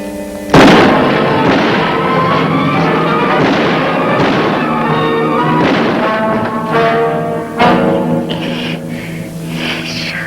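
A sharp gunshot rings out in a radio drama, a loud sudden blast followed by a sustained dramatic music sting, with a second accent hit several seconds later.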